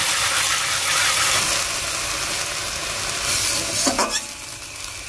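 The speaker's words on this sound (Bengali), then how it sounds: "তো এবার আমি আদা রসুন লঙ্কা পেস্ট দেবো।" Ginger, garlic and chili paste hits hot oil in a pan with a steady sizzle and the scrape of stirring, close and moderately loud, with a sharper burst of frying near the end.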